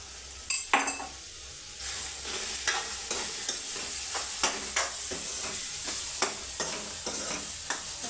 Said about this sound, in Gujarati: તેલમાં કંટોલા પાકી ગયા છે